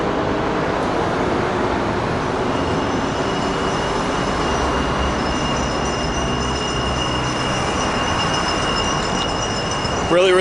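Mexico City subway train rolling through a station, a loud steady rumble with rail noise and a high whine that runs throughout, ending in a brief louder burst.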